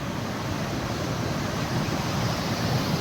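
A swollen village stream after heavy rain sends up a steady broadband rush of water, a constant roar with no pauses and no voices.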